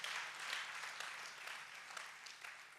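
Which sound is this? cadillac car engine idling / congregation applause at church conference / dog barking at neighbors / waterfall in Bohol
congregation applause at church conference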